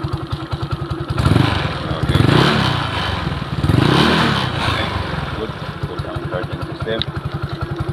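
Yamaha Mio Sporty scooter engine fitted with Makoto flyballs idles with a steady close chug, then revs up twice in strong surging bursts before settling back to idle, with people talking over it.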